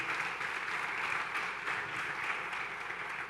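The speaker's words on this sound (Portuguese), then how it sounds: "Você pode dar uma salva de palmas a Jesus?" A church congregation applauding during an evening sermon: dense, continuous clapping from many hands, an even roar of fairly moderate loudness that holds steady with slight swells throughout, with no voices over it.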